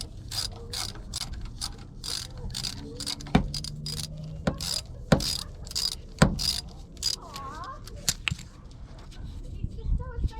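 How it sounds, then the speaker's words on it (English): A ratchet clicks in rapid bursts as bolts come off the transmission pan of an RV Winnebago, close and sharp with pauses and occasional metallic knocks between strokes, no talking. "now the labor part of taking all these bolts out"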